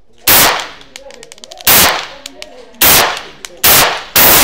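Pistol shots from a Bersa Thunder handgun at a shooting session, five sharp loud reports at irregular intervals of about a second, each with a short decay, and faint clicks and small noises between them.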